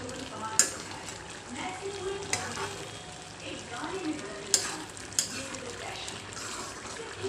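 Mutton frying in oil in a home kitchen, with steady sizzling and crackling throughout and a few sharp clinks of a spoon stirring against the pot, heard close and fairly quiet with no talk.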